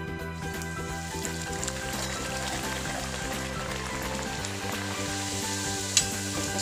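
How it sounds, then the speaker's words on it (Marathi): Palak puri fry in hot oil, giving a steady bubbling sizzle with a faint rhythmic patter throughout and one sharp tap near the end, no talking. "तेल तापले तर पुरी टाकते मी."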